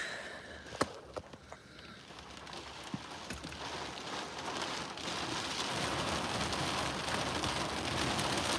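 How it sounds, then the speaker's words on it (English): Heavy rain bucketing down outdoors, a dense steady hiss of drops on surfaces that builds over the clip, with a few sharp knocks and bumps near the start. "Just made it. Bucketing down."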